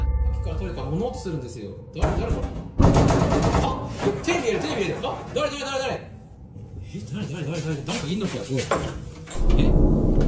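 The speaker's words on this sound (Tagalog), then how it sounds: "Nang marinig nito na may kumakatok sa kanyang banyo" A bathroom door is knocked on and rattled by a hand, with repeated loud bangs and clattering shakes that run under steady narration in Filipino.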